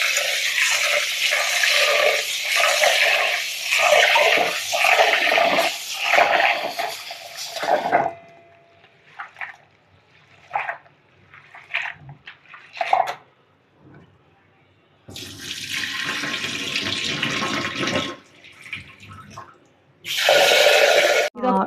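A 150-gram batch of toor dal washed in water, rinsed three times: loud bursts of splashing and sloshing water come in three separate spells with quieter gaps between them.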